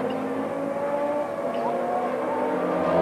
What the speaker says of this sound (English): There's an Audi being driven to its limit.